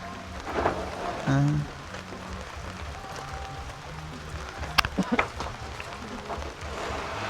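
Steady rain patters across the whole stretch, with a few sharper drips and knocks and a brief voice-like tone partway through.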